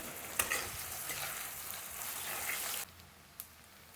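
Grated onion and potatoes fry in a pot for chicken biryani, a dense close crackling sizzle with a few stirring knocks that drops sharply to a quieter hiss near the end, no voices.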